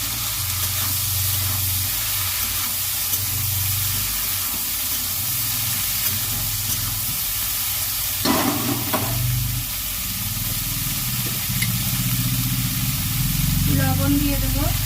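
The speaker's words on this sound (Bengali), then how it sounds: "কালো জিরে দিয়ে দেব তেলের মধ্যে" Nigella seeds dropped into hot oil for a home-style fry, giving a loud, steady hissing sizzle close by that persists throughout, with a few clatters partway.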